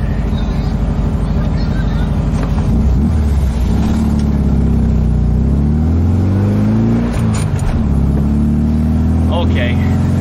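An air-cooled VW car drives with a steady loud engine drone that rises and falls as the gears are shifted, with someone talking over the engine noise.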